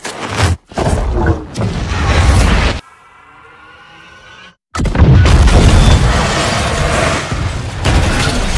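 Explosions rip through a laboratory in a film: loud roaring blasts and booms, broken by a short quiet gap, then a fresh heavy blast and a continuing rumble of fire and debris, with no talk.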